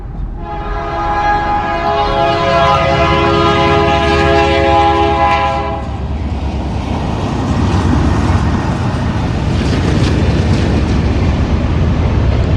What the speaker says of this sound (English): Boy, you can hear that train.